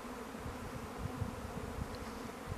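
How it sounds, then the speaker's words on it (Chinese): A swarm of honeybees splitting from a backyard hive, producing a dense, continuous low buzz that hums steadily throughout at close range, with no talking. "好多现在好多蜜蜂"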